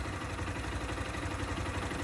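A 2025 Honda Start 160 motorcycle with about 3,349 km and a suspected engine fault runs at idle, a steady dense mechanical rattle and hum, close and loud, with no talk.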